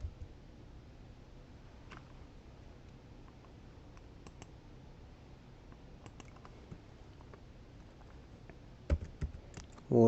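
Python code being typed on a computer keyboard: scattered light key clicks and taps at a quiet, steady level, with a few louder clustered strikes near the end and no speech.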